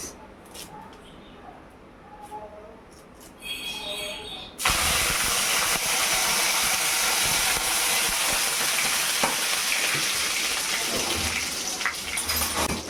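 Curry leaves hit hot cooking oil in a home kitchen, setting off a sudden loud, steady sizzle with hiss and spatter that persists close up after a quieter stretch of faint clinks.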